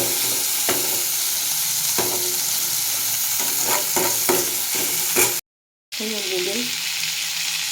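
Meat frying in a pan, a loud steady sizzle broken by repeated scraping stirs, cut by a sudden brief silence before the sizzle resumes with a short spoken phrase over it.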